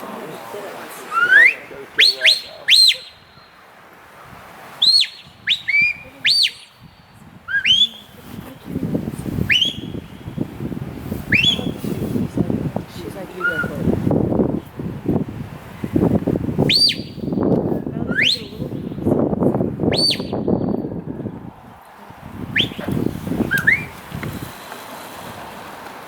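Sharp, high shepherd's whistle commands to a sheepdog repeat in short bursts over wind noise at a sheepdog demonstration in the Wicklow Mountains, while a person talks briefly in between.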